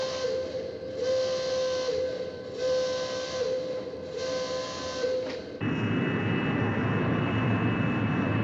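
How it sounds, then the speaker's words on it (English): A B-52 bomber in flight, heard as a steady jet-engine drone with a high whine that pulses gently, then shifts abruptly to a louder, harsher roar with a sustained tone, continuous and close throughout. "America's Strategic Air Command maintains a large force of B-52 bombers airborne 24 hours a day."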